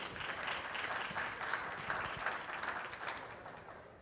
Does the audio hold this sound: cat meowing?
no